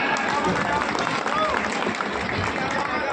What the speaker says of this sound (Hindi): तो ऐसे दानदाओं के लिए बहुत जोरदार ताली।